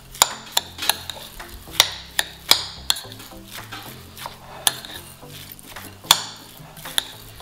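Minced meat filling for stuffed peppers mixed in a bowl, with sharp, irregular utensil knocks against the bowl over a soft, wet churning, close and moderately loud, and no talking.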